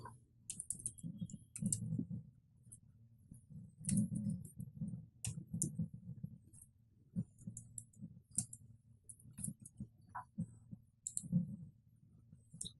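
Computer keyboard typing and mouse clicks while setting up a Gmail signature, a close, irregular patter of keystrokes and sharp clicks in bursts over several seconds with no speech.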